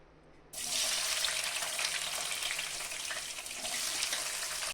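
Diced onions hit hot oil in a pan for chilli chicken, a faint hiss at first, then a sudden loud, dense crackling sizzle that holds steady and swells again before cutting off at the end.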